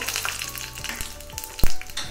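Oil sizzles steadily in a pan with a soft crackle as chana dal and tempering seeds fry, and a sharp clack lands near the end over the continuous frying hiss.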